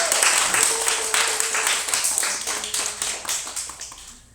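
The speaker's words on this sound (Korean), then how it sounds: "박수로 맞춰주십시오" A church congregation claps to welcome an interview guest, a dense, steady patter of many hands that fades slightly toward the end.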